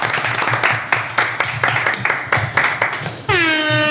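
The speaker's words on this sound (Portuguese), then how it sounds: "Uma salva de palmas nossas." Audience applause at the opening of a Mozambican podcast, several quick bursts of clapping close to the mic, ending with a sustained horn-like tone over it.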